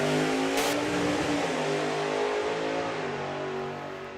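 A drag racing car at a Bug Jam drag strip accelerates hard, engine revving high before shifting into second gear, loud and close, with the roar holding steady then easing slightly as it pulls away.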